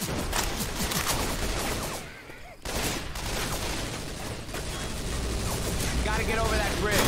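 Remington ACR-G assault rifle in Left 4 Dead 2, rapid near-continuous automatic fire with mechanical clatter and a brief lull, while voices shout over the shooting.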